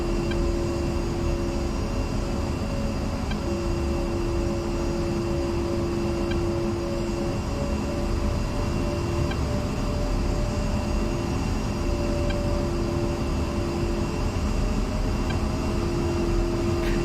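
An A-10C II jet taxiing in the DCS World flight simulator, a steady loud engine whine and rumble with a sustained high tone, running continuously with no talk.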